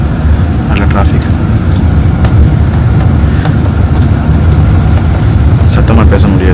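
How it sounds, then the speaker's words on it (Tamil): Continuous morning road traffic rumbles nearby in Khor Fakkan, with engines and passing vehicles forming a dense, steady background; a voice talks over it. "காலையிலே டிராஃபிக்காக இருக்குது. நல்ல மணி 10 மணி ஆகுது. நல்ல டிராஃபிக்."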